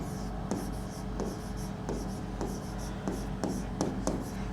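Marker or chalk writing on a classroom board during a biology lecture on eukaryotic cells, giving repeated short scratchy strokes in a steady rhythm, close and moderately quiet, with no talking.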